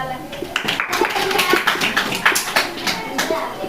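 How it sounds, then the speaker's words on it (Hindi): Students in a classroom clap together on a teacher's cue, a short burst of quick, close, overlapping claps heard under ongoing talk. "तालियां।"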